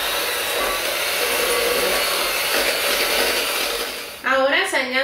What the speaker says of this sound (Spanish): ahora voy a añadir los huevos 1 a la vez y batir.